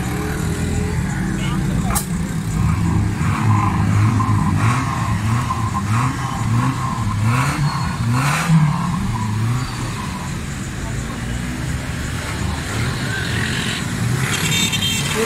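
A Suzuki Alto 1000cc car engine with a misfire and heavy black smoke runs at close range, its uneven idle and revving pulsing steadily for about fifteen seconds, with someone talking over it.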